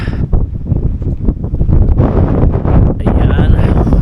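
Strong wind in Pangasinan buffets the microphone in a continuous loud roar, with a hint of water and a voice faintly underneath.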